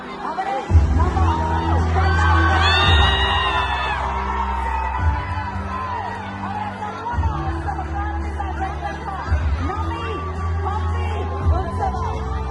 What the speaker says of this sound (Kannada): ನಮ್ಮ ವಿಜಯನಗರ ಜಿಲ್ಲಾಡಳಿತಕ್ಕೆ ಜೋರು ಚಪ್ಪಾಳೆ ಕೊಡಬೇಕು